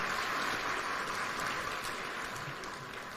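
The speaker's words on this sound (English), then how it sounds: "One more round of applause for His Excellency, the President" An audience at the opening of Kenya Innovation Week gives the President a steady round of applause, a continuous wash of clapping heard at moderate distance that eases slightly as it ends.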